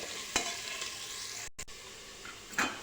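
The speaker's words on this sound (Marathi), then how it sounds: "कांदा छान लाल होईपर्यंत परतून घ्यायचा" Onion sautéing in oil in a pan, a steady soft sizzle with a few louder stirring scrapes near the start and end, close and fairly quiet.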